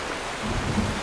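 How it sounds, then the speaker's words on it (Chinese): Rain falls in a steady broadband wash with a low rumble underneath, moderately loud and continuous for a short stretch, with nobody talking. "下雨了！"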